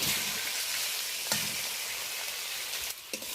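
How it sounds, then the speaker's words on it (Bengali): Salt-and-turmeric-coated prawns hit hot frying spices in a pan, giving a loud, steady sizzle throughout with brief stirring bumps and no talk. "এই পর্যায়ে আমি লবণ হলুদ মাখানো চিংড়ি মাছটা অ্যাড করে দেব।"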